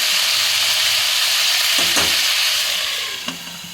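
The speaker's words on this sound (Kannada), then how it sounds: "ಒಂದು 5 ನಿಮಿಷ ಇದು ಫ್ರೈ ಆಗಲಿ. ಇವಾಗ ಬದನೆಕಾಯಿ ಒಂದು 3/4 ಭಾಗದಷ್ಟು ಫ್ರೈ ಆಗಿದೆ." Eggplant (brinjal) frying in oil in a pan for vangibath, a loud steady sizzle with a few stirring knocks, fading slightly at the end.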